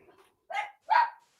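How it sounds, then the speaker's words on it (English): Dogs barking from upstairs, heard as two clear, moderately loud barks a short gap apart, with the start of a third at the end and only faint background between them. "So I've got dogs barking upstairs."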